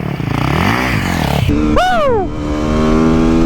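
A supermoto motorcycle engine revs close by, a rough throbbing roar that climbs in a sharp rising-and-falling blip midway before settling into a steady idle, with a shout over it.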